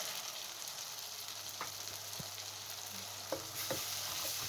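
Blended tomatoes added to softened onions frying in a pan for an egg masala curry, a steady hissing sizzle with a few soft knocks and scrapes, close and without talk.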